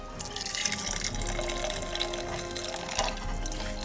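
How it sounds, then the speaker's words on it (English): Hot water pours steadily into cider with a continuous splashing rush that stays constant, and brief clinks and drips come through it. "we'll add the hot water to the cider."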